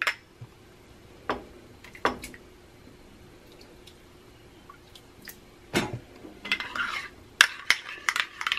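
A utensil taps and scrapes against a pot now and then while a warming milk mixture for capirotada is stirred, quiet clinks spread through the clip and clustering toward the end.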